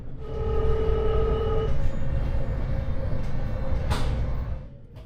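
Inside a high-speed train approaching Rotterdam: a steady rumble of the moving carriage, with a sustained electronic beeping tone sounding for a couple of seconds, then a softer tone lingering and a brief sharp noise near the end.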